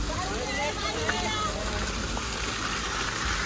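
Water splashes and rushes steadily at a waterfall on the Harishchandragad trek, a continuous broadband wash heard close by, with voices and other activity mixed faintly underneath.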